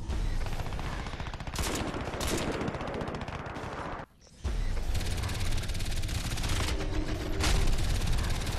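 Rapid gunfire from the video game Crysis 3 during a slow-motion kill replay, dense continuous bursts with a brief silent gap midway, then loud shooting resumes.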